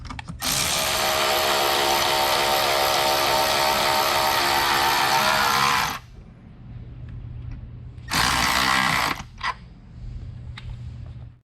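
A power tool reinstalls the nut on an oil separator assembly for a 2023-2026 Ford F-250/F-350 6.8L or 7.3L Godzilla engine, giving a loud, steady buzzing whir for about six seconds, then a shorter second burst and a few small clicks.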